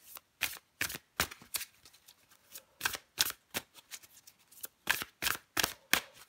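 Tarot cards being shuffled by hand in quick, rhythmic riffles, a series of close, crisp bursts with short pauses between them and no talking.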